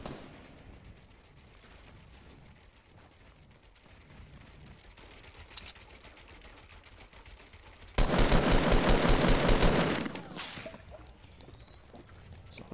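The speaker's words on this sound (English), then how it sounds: "Someone just shot at him." Video game gunfire, with quieter mechanical clicks and rattling giving way to a loud, rapid burst of automatic shots lasting about two seconds, then fading to lighter clatter.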